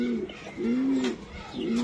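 Racing pigeons in a loft give soft, throaty coos in repeated rolling phrases, close and clear over a faint background hum.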